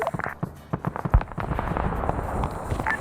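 Grenade explosion in a Vietnam-era multiplayer shooter game, a burst of booming blasts and crackling debris followed by a rumbling tail, with game noise around it.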